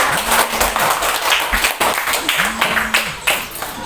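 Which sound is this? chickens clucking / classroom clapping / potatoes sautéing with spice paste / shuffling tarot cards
classroom clapping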